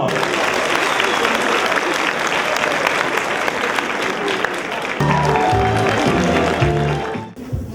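Applause from a crowd at a university humor show as teams are invited onto the stage, dense and steady, fills the clip, with music starting up underneath partway through before it all cuts off.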